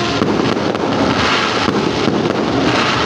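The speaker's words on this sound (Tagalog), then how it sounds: "The rain falling together with the fireworks." Fireworks bursting continuously at a large yearly display at Araneta City while rain falls, a dense steady roar of crackling explosions with no pauses, loud and close.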